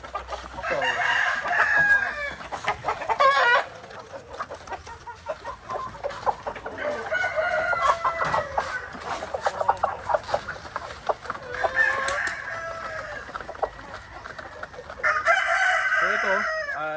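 Chickens cluck and a rooster crows repeatedly at feeding time on a small farm, a busy, continuous flock chorus with several louder bursts of crowing close by.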